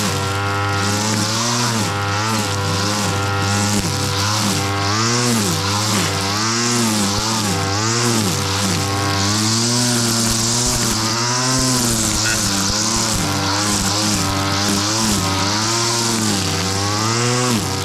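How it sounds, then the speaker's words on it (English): A gas string trimmer runs close by, its engine buzzing loud and continuous while the pitch swings up and down through repeated revs. "I have to weed whack the rest of the way, the whole way around"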